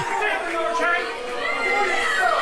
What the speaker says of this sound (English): the crowd kindly greets New Age Warriors